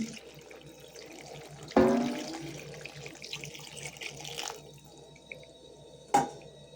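Water is poured into a pot of vegetable soup on a stove, with a sudden splash and a short trickle, then quieter drips and a second brief splash near the end.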